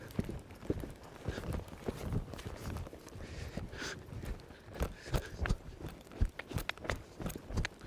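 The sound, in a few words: horse hooves loping under a rider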